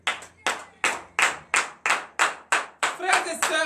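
A church congregation at Saturday morning prayer claps in a steady, even rhythm of about eight loud, sharp beats, then the claps blur into overlapping, busier clapping.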